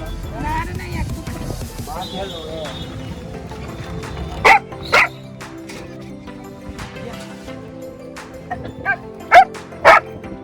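Dogs bark in short sharp bursts on a farm near a wooden box holding puppies, a couple of barks midway and a pair near the end, over steady background noise and some talk.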